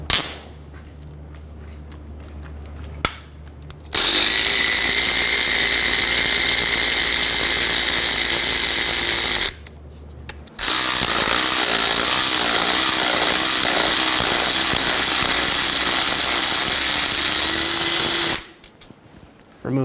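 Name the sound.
electric power tool removing 13mm bell housing bolts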